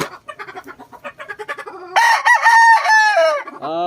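Boston cross rooster giving one loud, close crow in the second half, drawn out and wavering, after a run of soft clucking notes at the start.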